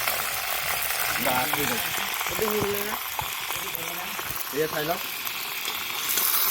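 Broiler chicken meat sizzles loudly and steadily in a kadai, with stirring clatter mixed in, while a person talks over it.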